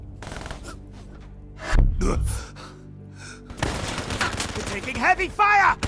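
Bursts of rapid gunfire from the video game Call of Duty: Black Ops III crackle in battle, sometimes loud and sometimes further off, mixed with voices and a gasp.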